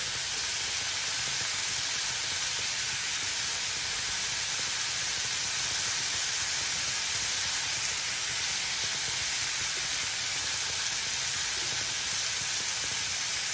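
Jerk pork cooking on an outdoor grill gives off a steady, unbroken hiss and sizzle, even and constant from start to finish with no talking.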